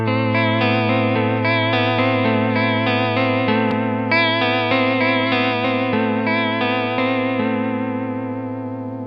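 Electric guitar played through a Behringer Ultra Vibrato pedal with all controls at noon, strumming sustained chords with a steady warbling pitch modulation, loud and up close, ringing on by itself for several seconds.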